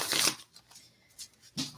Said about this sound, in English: I'm going to shuffle the deck here